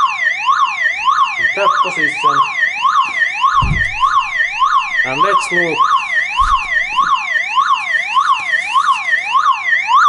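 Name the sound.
car alarm sounding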